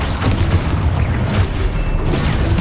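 A spell explosion from a video game, the Confringo blast, heard as a loud, continuous booming rumble with crackling bursts that fills the whole short stretch.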